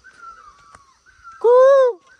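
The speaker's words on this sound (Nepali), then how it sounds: "चराचुरी कस्तो कराएको" Village birds call in rural Nepal, with a thin sustained tone running under a single loud, harsh caw-like cry near the end of the clip.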